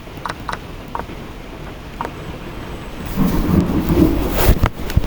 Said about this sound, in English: It's very loud. Storm.